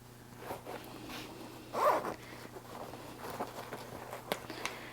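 A zipper pull drawn closed on a sewn cash wallet, one clear short zip near the middle with a few lighter handling ticks and rustles around it, close and quiet, no speech.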